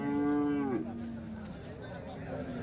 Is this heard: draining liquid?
no